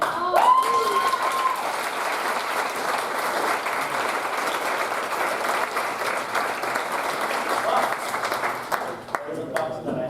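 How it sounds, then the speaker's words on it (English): Applause at a spiritual fireside chat, a sustained crowd clapping at a fairly even level for about ten seconds, with brief voices at the start and near the end. "I'm going to applaud you."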